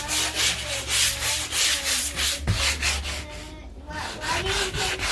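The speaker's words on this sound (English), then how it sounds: "I'm gonna try to sand this down to get it to be nice and flat." Steady rhythmic back-and-forth sanding on wood, close and loud, each stroke scraping in a regular pattern.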